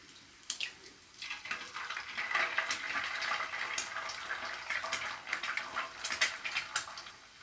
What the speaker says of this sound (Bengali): এখন এই পাশে আমি ডিমটা ভাজা ভাজা করব